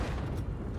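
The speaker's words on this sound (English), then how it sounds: "Who needs explosive barrels when you can just shoot explosions?" Explosions from a weapon being fired in the video game Cyberpunk 2077, a dense continuous low rumbling boom that fills the short moment at steady loudness.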